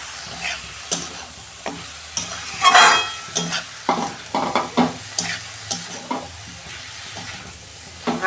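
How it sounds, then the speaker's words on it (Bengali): Cabbage and potatoes being sautéed in a pan, with a spoon scraping and stirring in repeated strokes over a steady frying sizzle, loud and close, with no talking. "ভালো করে আমি কষে নেব।"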